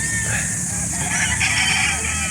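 Golden Boy chickens at a poultry sale in Calauan, Laguna, clucking and crowing close by in a steady jumble, with faint voices in the background.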